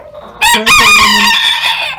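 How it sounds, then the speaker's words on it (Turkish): Single loud, close İspenç rooster crow, a strained harmonic cock-a-doodle-doo lasting about a second and a half, heard alone. "Bugün köy tavuğumuzun yanına bir horoz getirdim."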